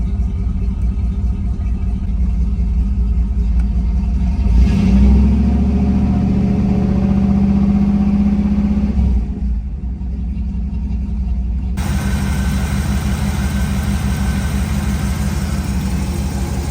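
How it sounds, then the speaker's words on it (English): An original 305 high output V8 in a Camaro idles with a deep loping rumble, swells into a rev and settles back, then idles on steadily, loud and close with no talk. "It's got the original 305 high output. Engine runs really good."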